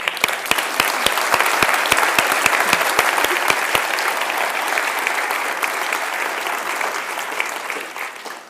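An audience at a climbing speaker event applauds in a steady, full round of clapping, with a few sharp individual claps standing out near the start and the sound holding evenly throughout.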